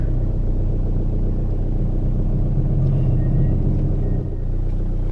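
Diesel car engine held at nearly 4,000 RPM while the vehicle fails to move, a loud steady droning rumble with no change in pitch.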